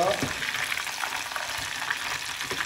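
Large shrimp fry in deep oil and get turned over, a steady close crackling sizzle with soft stirring scrapes, no talking.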